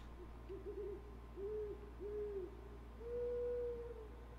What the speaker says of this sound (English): Listen to the owls.